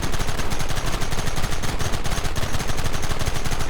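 Gunfire in Red Dead Redemption crackles in rapid, overlapping bursts, loud and continuous like several rifles and repeaters firing at once, with no voices over it.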